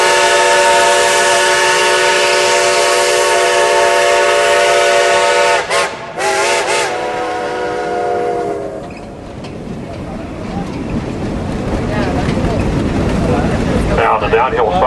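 Shay steam locomotive engine number 6 on the Cass Scenic Railroad sounds a long, loud, multi-tone steam whistle, a brief break, then shorter blasts, followed by rumbling and hissing of the moving train.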